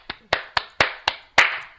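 Six sharp hand claps in quick succession, close and distinct, with no talking.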